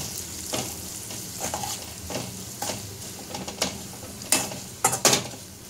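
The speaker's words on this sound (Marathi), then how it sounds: "आता हे सगळं मिश्रण आपण व्यवस्थित एकत्र करायचं आहे।" A spiced chivda mixture with salt, chilli powder and curry leaves is stirred and sautéed in a pan, with a soft steady sizzle under repeated scraping strokes and a few sharper clanks of the spoon against the metal.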